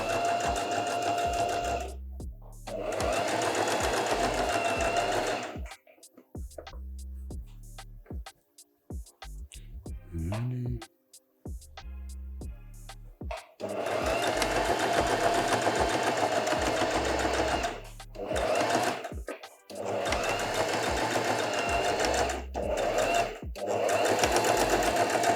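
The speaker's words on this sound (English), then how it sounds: "I should be sewing my neckline." Domestic sewing machine stitching a garment neckline, long loud runs of rapid mechanical stitching broken by short pauses and fabric handling, with a voice speaking briefly in the gaps.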